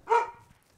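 A single dog bark, close and fairly loud, with a short tonal yelp that fades quickly into a quiet background.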